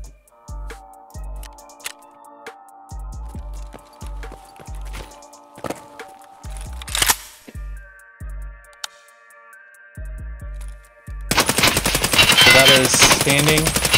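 A gun in a video game (Punisher weapon) fires in rapid bursts of sharp, loud shots during a recoil test, with pauses between volleys and a long continuous burst at the end.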